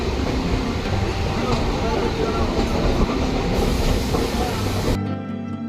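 Maa Tara Express passenger train running, a loud, close, continuous rumble of wheels on track with rhythmic clatter, heard from on board, fading slightly at the end.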